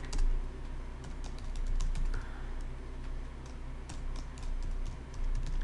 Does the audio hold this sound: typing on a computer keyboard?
yes